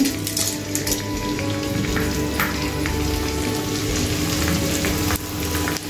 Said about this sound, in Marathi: ते थोडं थोडं घालून छान असं फुलवून घेणार आहे, तळून घेणार आहे.